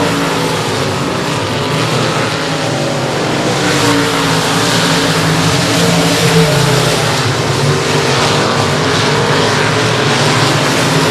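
Limited Modified race cars roar around a speedway on the final lap, a loud continuous engine drone that swells and rises as the pack passes, with no clear voices over it.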